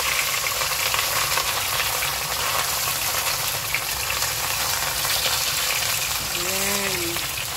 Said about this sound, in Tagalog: Magprito naman tayo ng isda.